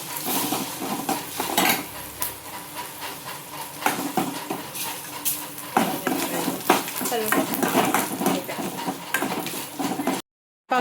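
Dried red chillies frying for tempering, with clattering pan, stirring spoon scrapes and a light sizzle throughout, close and busy, with occasional faint voices.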